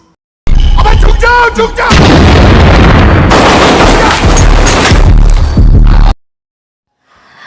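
Bombs and gunfire from terrorists in a film about the Hotel Mumbai attack: a loud, dense barrage of shots and booming blasts lasting several seconds, ending abruptly in near silence.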